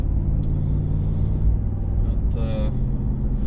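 Engine of a 2021 Ram 1500 with the 5.7 Hemi, hauling a load of wood, a deep steady rumble heard from inside the cab, with a short whine near the end.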